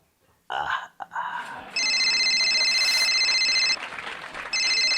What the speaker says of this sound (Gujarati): આ તારો ફોન વાગે છે